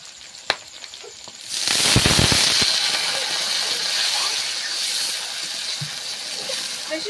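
Water poured into a hot pan of meat curry sets off a sudden loud hiss that settles into a steady, sustained sizzle close by, with faint voices in the background.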